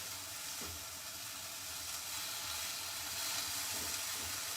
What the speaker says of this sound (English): my spinach is wilting down. I'm flipping my turkey.